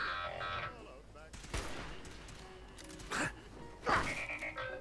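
Gunfire in Fallout 3, several heavy blasts spaced a second or so apart over a low game background, with a voice briefly heard between the shots.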